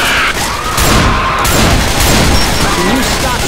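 Continuous loud gunfire in the Left 4 Dead 2 Swamp Fever campaign, dense overlapping shots forming a sustained roar with game sounds and voices mixed in.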